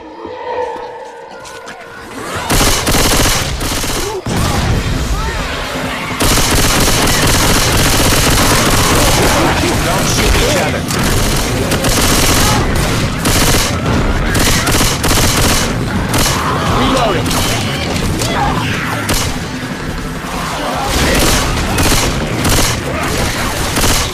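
Dense, continuous gunfire from Left 4 Dead 2, with rifle bursts, grenade launcher booms and AK-47 fire overlapping for most of the stretch, loud and close, under occasional talk.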